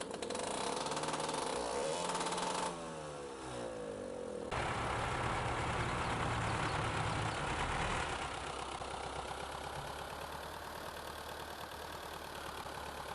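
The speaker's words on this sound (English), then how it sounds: "Once the small gas engine's running, that small gas engine fires up the diesel. So if you listen to it, you hear 2 engines start up." A vintage tractor's small gas engine sputters at a rapid rhythm, then the diesel engine fires up and settles into a loud, heavy, steady idle close by.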